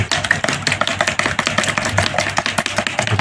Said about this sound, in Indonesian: setelah putih telurnya kita pakai, kita kocok-kocok dulu